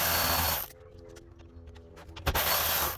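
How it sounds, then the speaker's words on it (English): Power tool removing 8mm bolts from the fuel filter housing of a 2017-2021 Ford F250 6.7L diesel, a loud whirring burst at the start, a quiet pause with small clicks, then another loud whir at the end. "I'm gonna take off the bolts all the way."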